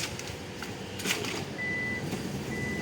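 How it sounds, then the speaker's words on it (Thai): The powered sliding door of a Hyundai H1 van runs with a steady motor whir and mechanical clunks, and a sustained electronic warning beep sounds twice partway through. "ดูสไลด์ไฟฟ้านะครับทั้งซ้ายและขวาบนได H1 นะฮะ"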